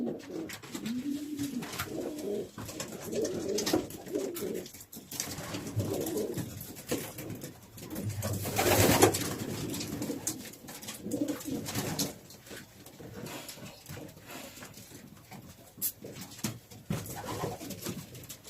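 Soft racing pigeon coos repeat through the clip inside a loft, alongside faint rustling and shuffling, with a low steady background hum.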